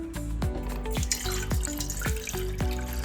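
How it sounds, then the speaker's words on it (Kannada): Water pours into a pot to boil eggs, a close steady rushing stream broken by a rhythmic series of gurgling glugs about every half second. "ನೀರು ಹಾಕ್ತಾಯಿದ್ದೀವಿ."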